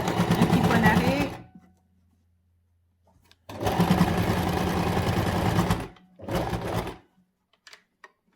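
A sewing machine runs in three bursts, two long and one short, with a pause between the first two, stitching back and forth to lock the seam on a fabric mask. Its steady mechanical whir is close and clear.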